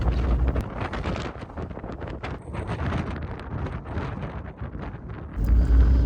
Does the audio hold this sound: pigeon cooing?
no